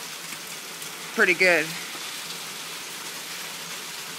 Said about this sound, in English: It is hailing really bad. I don't know if you guys can hear it or not, but it's hailing